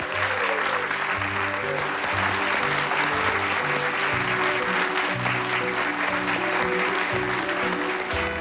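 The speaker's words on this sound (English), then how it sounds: "Can I have a really huge round of applause, please" A crowd gives a big round of applause for a group of newly trained airline cabin crew, loud sustained clapping mixed with music and some voices underneath.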